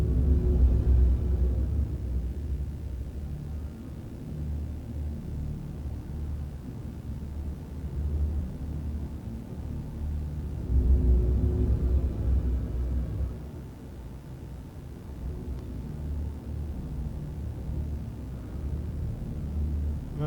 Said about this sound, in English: the stupid wind dust storm